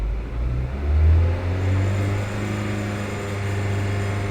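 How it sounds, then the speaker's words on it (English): A car engine revs up as the gas pedal is pressed during a throttle position sensor check, a steady low idle rising into a swelling roar and then settling into a sustained hum, close and without speech. "I'm gonna have Moy over here press on the gas pedal"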